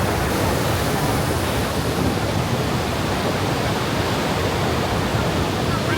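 The thunderous roar of Iguaçu Falls at the Devil's Throat in Brazil, a waterfall over 80 meters high, heard as a loud, steady, unbroken wall of rushing water noise.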